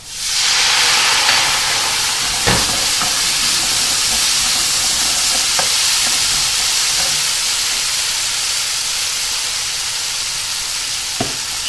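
Paprika and white wine hit a hot pan of beef stroganoff, setting off a loud, steady sizzle and steamy hiss that bursts up at once and runs on evenly, with faint stirring clicks and no talking.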